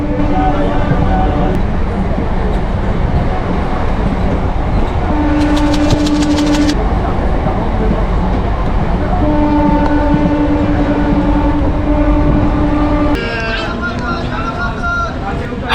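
A passenger train on the Howrah to Midnapore line rumbles steadily throughout, with sustained horn-like tones and a brief high metallic rattling, while voices chatter nearby inside the carriage.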